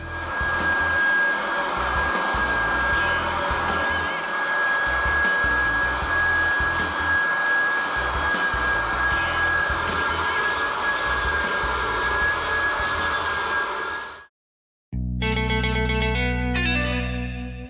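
A floor sanding machine runs on a wood floor during the rough cut, a loud, steady roaring whine that holds for about fourteen seconds before cutting off abruptly, followed by a brief different mechanical tone.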